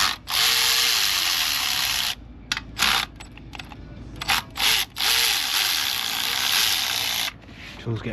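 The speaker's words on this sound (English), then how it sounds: "Tool's getting a bit flat on battery." A battery-powered tool whirs in loud bursts while removing intake manifold bolts from a 6.0L VE SS engine, stopping and starting with short gaps and ratcheting pauses between runs.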